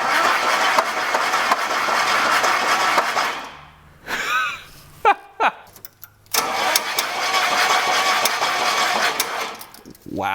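Original engine of an abandoned prototype Grumman-Olson mail truck cranking over in loud sustained bursts, stopping and starting again, with brief talk in the gaps between attempts.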